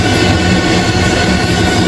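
A passenger train travelling in Russia, heard from inside a carriage, gives a loud, steady rumbling roar of wheels on track with no talking.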